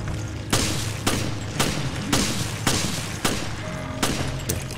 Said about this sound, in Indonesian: jadi tempatnya digembok guys, dan gue harus tembak gemboknya